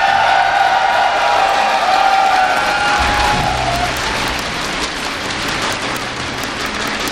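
A StarCraft GSL World Championship audience cheering for Stephano, a loud, dense roar of applause and shouting from a large crowd that swells then gradually eases off.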